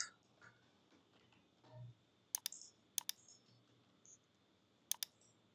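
Sharp mouse clicks on a computer, in three quick double-click bursts, fairly close over a quiet background.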